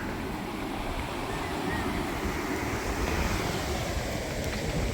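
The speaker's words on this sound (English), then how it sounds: "Little windy." Wind blows across the Key West seaside, a dense, even rush that buffets the microphone for the whole stretch without pause.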